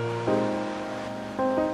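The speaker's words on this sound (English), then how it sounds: "The water flows into the Yolo Bypass, relieving pressure on the Sacramento River." Floodwater pours through the open Sacramento Weir into the Yolo Bypass with a steady, dense rushing roar. Brief tonal swells rise over it twice.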